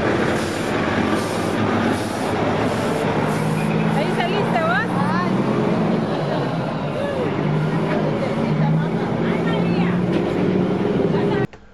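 Heavy trucks and traffic rumble steadily past on a busy main road beside crowded street food stalls, a continuous close roar with voices chattering underneath throughout.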